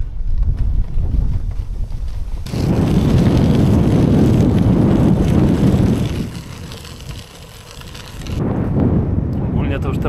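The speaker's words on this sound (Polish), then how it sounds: "No i ten wiatr." Strong wind buffets the microphone outdoors in a forest on a bikepacking trip through Masuria, a loud low rumble that surges, eases briefly, then returns.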